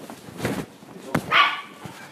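A toy poodle lets out a few short, sharp barks close by, separated by brief pauses, with some shuffling around them.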